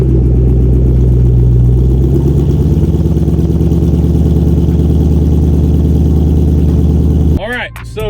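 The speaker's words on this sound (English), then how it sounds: "let's get a cold start going" A Ford Mustang with a 3-valve V8 fires up from cold, a loud steady idle with a firm low rumble that settles and holds for several seconds before cutting off abruptly, followed by a brief burst of other sound.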